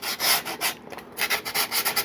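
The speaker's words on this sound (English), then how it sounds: "This is where you can kind of go to town on sanding" Foam on an H-King L-39 64mm EDF RC jet model is sanded by hand in quick back-and-forth strokes, a close, dry, rhythmic rasping with a brief pause midway.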